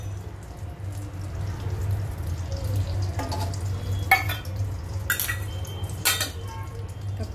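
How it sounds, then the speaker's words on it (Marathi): Butter hits a heated pan for a vegetable stuffed bun filling, giving a steady low sizzle with a few sharp clinks of utensils against the pan along the way. "इकडे आपला पॅन तापलेला आहे आणि मी याच्यामध्ये आता बटर ऍड करते"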